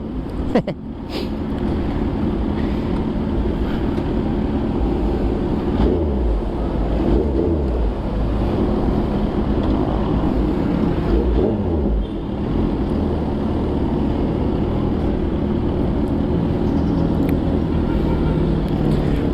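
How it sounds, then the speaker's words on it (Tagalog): A big bike motorcycle engine drones continuously while riding, mixed with rushing wind noise against the microphone, with no clear revving peaks. "Para madinig ko yung ingay ng motor natin."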